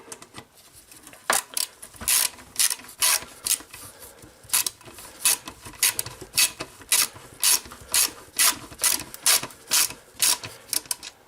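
A ratchet wrench tightens bolts on a garage door motor, giving steady bursts of quick metallic clicks in a regular rhythm, close and fairly loud with brief pauses between strokes.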